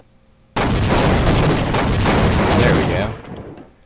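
Air strike explosions in the video game Half-Life Source: a sudden, loud, roaring blast that rumbles on for over two seconds, then fades, with a brief spoken remark.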